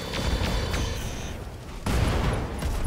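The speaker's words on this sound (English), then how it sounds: "Machine gun ammo explosion." A machine gun ammo explosion in the mech combat game RogueTech: a dense rumble of battle noise, then a sudden loud, booming burst near the end that rolls into crackling blasts.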